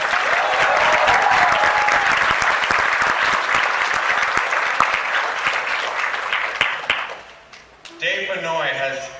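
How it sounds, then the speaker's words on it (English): A loud, dense round of clapping from a convention audience at a Game On Expo 2017 voice actor panel. It swells for several seconds, then thins and fades, and a voice begins talking near the end. "Please give a warm applause for John Patrick Lowrie."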